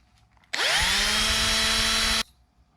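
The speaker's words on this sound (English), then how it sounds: "Now for the pilot hole, I'm going to go with a smaller bit and I'm going to go straight in." A power drill with a small bit bores straight into a bicycle frame to make a pilot hole for a dropper post, giving one loud, steady high whine that starts abruptly, holds for under two seconds and cuts off, close up with no talk.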